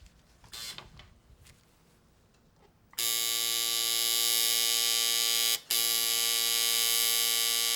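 Tattoo machine starting up after a quiet stretch, then a loud steady electric buzz held for nearly five seconds, close, with one brief cut-out partway through.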